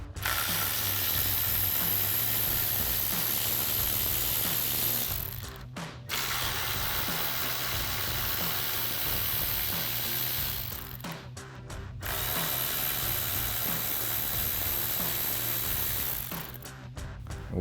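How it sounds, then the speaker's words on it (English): A 10mm socket on a ratchet clicks rapidly while loosening headlight bolts on a Jeep Wrangler JL, three long runs of close ratcheting separated by short pauses, with no talk. "So we'll go ahead and use our 10mm socket and remove those bolts."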